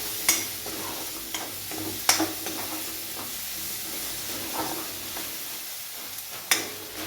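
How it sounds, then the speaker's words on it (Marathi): Spices with salt and garam masala fry in a pan for a capsicum (shimla mirchi) bhaji, giving a steady close-up sizzle broken by occasional sharp scrapes and clinks as the mixture is stirred. "चवीनुसार मीठ टाकायचं आहे. थोडासा गरम मसाला टाकायचा आहे. हे फ्राय करून घ्यायचं आहे, हलवून घ्यायचं आहे."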